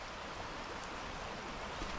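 Steady broadband rush of a flowing trout river or creek, continuous and even with no voices.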